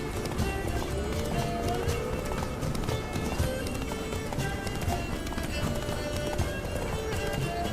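Steady rhythmic hoofbeats of a galloping horse carry on throughout, with a horse whinny and background music layered over the pounding, in The Witcher 3: Blood and Wine video game.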